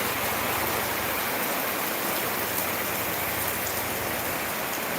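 Rain falls steadily in an outdoor rural setting in Gir, an even, close hiss of drops pattering on surfaces throughout, with no talking.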